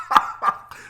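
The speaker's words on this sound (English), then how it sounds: "I'm coughing." A person coughs three times in quick succession, with two sharp, loud bursts followed by a softer, trailing third cough, all close to the microphone.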